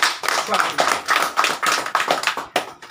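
Applause from an audience at an organisation's gathering, a dense run of hand claps swelling and easing in waves over a few seconds, close and fairly loud with no clear voices.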